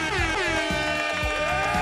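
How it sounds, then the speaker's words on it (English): A loud, blaring air horn blast held steadily for under two seconds, harsh and brassy. "You might get the air horn."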